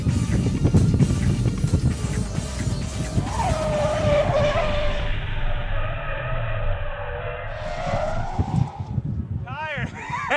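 Race car drifting through a slide on a street course, tires skidding in a long sustained screech over loud engine roar, with people talking over it.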